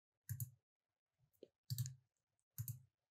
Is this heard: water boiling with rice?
no